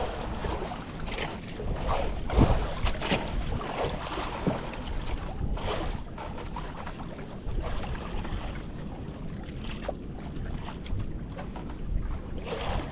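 Strong wind buffets the microphone at sea while fishing from a boat off Bali in rough waves, a constant heavy rumble with gusts and water slaps, with no one speaking.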